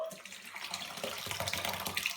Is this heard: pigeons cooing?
no